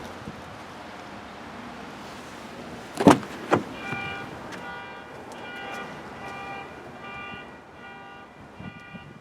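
Inside a 2017 Lexus IS, a couple of soft clicks precede the quiet, steady whine of an electric window motor running for several seconds, faint against low cabin background noise.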